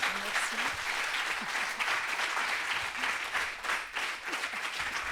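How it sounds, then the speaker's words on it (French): Conference audience applauding after a talk on NFTs and bitcoin, sustained thick clapping from a large crowd that stays loud and even throughout, with faint voices underneath. "J'aimerais qu'on applaudisse Sophie et Olivier."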